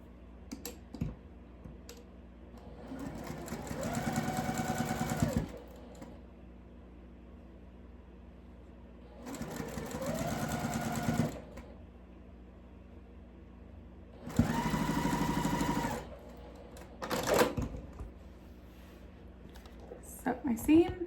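A sewing machine stitches quilt blocks in three separate runs of a few seconds each, a steady whirring hum that rises and falls with each seam, with clicks and handling noises between.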